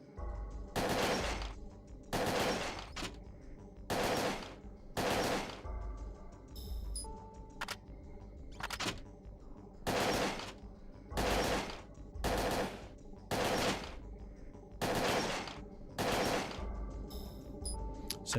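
Repeated gunfire in the video game Parasite Eve 2, about a dozen loud, evenly spaced bursts with short gaps between them over a low game soundtrack, with no talk.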